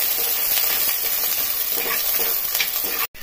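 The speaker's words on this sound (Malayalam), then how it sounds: "ഇതിനകത്തേക്ക് അരിഞ്ഞു വെച്ചേക്കണ ഉള്ളി ഇട്ട് കൊടുക്കുവാണ്" Chopped red shallots sizzle loudly in hot oil in a pan for a coconut-free curry, a dense continuous frying hiss close up, cut off abruptly near the end.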